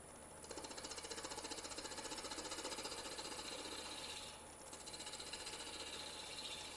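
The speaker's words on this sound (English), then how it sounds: "So now I'm going to have to sand that again." A power sander works over wood with a steady, buzzing, rapidly pulsing whir, close and fairly loud, dipping briefly once midway before continuing.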